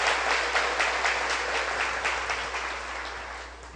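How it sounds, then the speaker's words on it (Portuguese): A church congregation applauds, a steady wash of many hands clapping that holds for several seconds and slowly fades, with no talk over it. "pode aplaudir, coisa maravilhosa"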